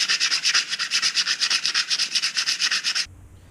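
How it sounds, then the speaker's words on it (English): Rapid back-and-forth strokes of sandpaper on a front brake part from a Suzuki RMZ250 dirt bike, a steady scratchy rhythm of about twenty quick passes over three seconds, close and fairly loud, then stopping abruptly. "I'll give it a bit of a hit with a bit of sandpaper."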